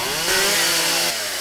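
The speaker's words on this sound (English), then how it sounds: "It's amazing, we have a chainsaw." A chainsaw in the video game 7 Days to Die revs up loud and close, holds a harsh high whine for about a second, then drops back toward idle.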